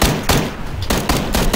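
Rapid gunfire in PlayerUnknown's Battlegrounds, a quick burst of several close, loud shots in an uneven rhythm over a brief moment.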